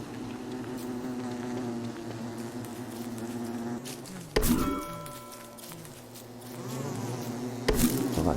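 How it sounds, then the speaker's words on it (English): A dense swarm of bees buzzes continuously in the Don't Starve Together video game, a steady droning hum at moderate volume broken by a couple of sharp game effect bursts. "So that's a lot of bees."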